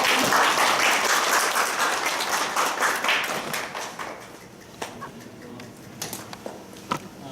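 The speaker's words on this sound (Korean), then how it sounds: "박수 쳐주세요" Audience applause, loud and dense at first, then thinning out into scattered individual claps toward the end.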